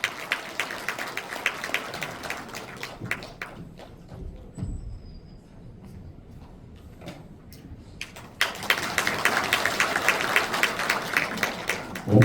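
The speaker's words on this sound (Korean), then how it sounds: "이현희 흥덕구 국회의원님 큰 박수로 모셔보도록 하겠습니다" Audience at a National Assembly member's constituency report meeting in Cheongju claps for an arriving lawmaker, with brisk crowd applause that thins to scattered claps and shuffling, then surges back loudly.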